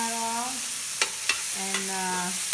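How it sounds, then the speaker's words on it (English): Tomato sautéing in a very hot pan, a steady broadband sizzle with a few sharp scrapes or clicks of stirring, while a faint harmonic hum sits in the background. "we're going to add the tomato, and we want that to cook up some, nice and hot"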